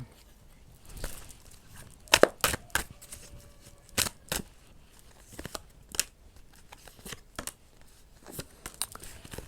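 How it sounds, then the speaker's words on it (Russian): Fortune-telling cards being shuffled by hand, with some dropping out of the deck: a close, irregular run of sharp flicks, slaps and papery rustles, with quiet pauses between bursts and no talking. "Ой, выпадают прям карты."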